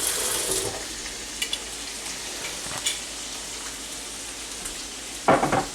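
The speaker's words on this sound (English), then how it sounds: "Oh, that's sizzling." Quiet, steady sizzling of food in a pan with a few soft clinks, then a brief louder burst of hissing near the end.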